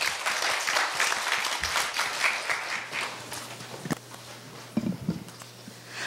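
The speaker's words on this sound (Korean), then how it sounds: "격려의 박수 부탁드립니다" Encouraging applause from an audience at a student speech contest, steady dense clapping that gradually thins out, with a few footsteps and some isolated claps near the end.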